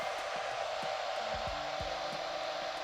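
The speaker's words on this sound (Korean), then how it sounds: "드라이기로 잡아주시면 됩니다." A hair dryer blows continuously at close range while hair is styled, a steady loud whoosh with a faint whine and a few brief soft taps underneath, no voices.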